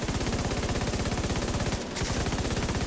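Loud, steady, rapid gunfire in a shooter video game, a continuous stream of close shots with a brief break near the end and no speech over it.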